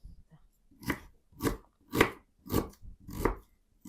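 Five evenly spaced chopping pulses from a blender chopping garlic and ginger into a paste, each a short, loud crunching whir with brief pauses between.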